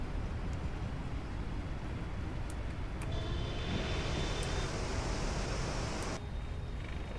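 The thrust reversers of a PMDG 777 in a flight simulator roar during the landing rollout, a loud, dense, steady rushing engine noise that swells and then cuts back near the end.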